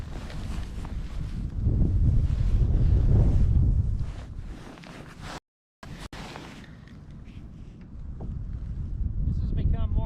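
Wind gusting over a fishing kayak on a lake, heavy rumbling buffeting that swells, briefly cuts out, then builds again, with a voice heard through it.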